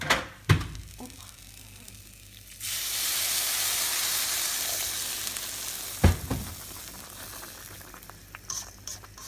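Food sizzles steadily in a hot pan before stewing, with a few sharp clanks of a utensil and stirring noises scattered across the hissing, close and moderately loud.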